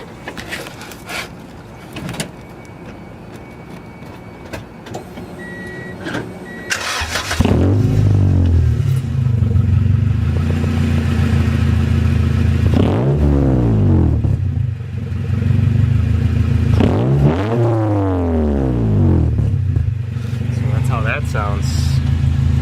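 A car with an open catalytic exhaust cranks and fires after some quieter handling noises, then roars close and loud through three sharp revs that climb and fall between a rough idle, with people talking.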